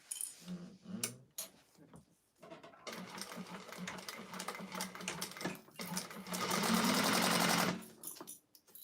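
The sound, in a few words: sewing machine basting a seam on a clutch wallet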